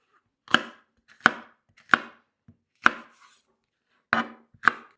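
Knife chopping food into tiny bite-sized pieces on a board while preparing creamy white chicken chili, six sharp, evenly spaced chops standing alone and close.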